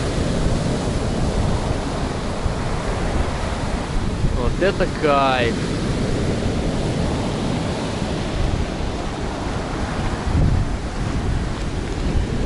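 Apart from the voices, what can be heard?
strong storm waves crashing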